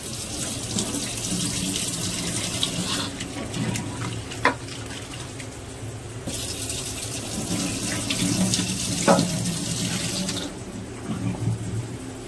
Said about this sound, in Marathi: पाण्याने स्वच्छ धुवून घ्यायचं